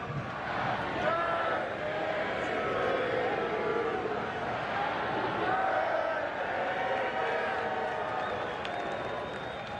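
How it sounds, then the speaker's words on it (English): A large crowd at Trump's military parade shouting happy birthday, a broad roar of many voices with some clapping, steady and moderately distant throughout. "you actually hear so many people screaming happy birthday almost at the top of their lungs in the crowd"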